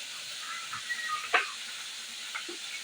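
Oil heating in a kadai on a stove before prawns go in: a soft, steady hiss with faint crackles and a slightly sharper pop partway through, close and fairly quiet.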